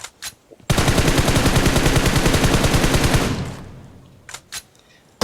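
Sustained automatic gunfire in the mobile battle royale game BGMI, a dense rapid burst lasting about three seconds, loud and close, then fading out, followed by a few faint brief game sounds.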